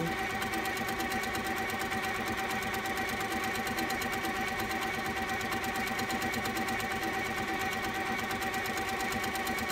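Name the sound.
sit-down sewing machine free-motion quilting fabric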